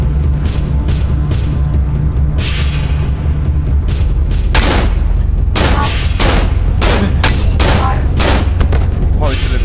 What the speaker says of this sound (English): let's just use the pistol